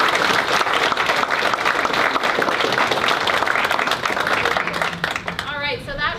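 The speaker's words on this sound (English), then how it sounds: "Let's give them a round of applause." A crowd applauds students of a culinary engineering competition, loud steady clapping for about five seconds that thins toward the end as a voice begins over it.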